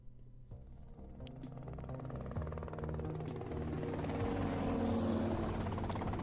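Helicopter in GTA Vice City, its rotor and engine drone growing steadily louder as it approaches and hovers, loud and continuous with no talk.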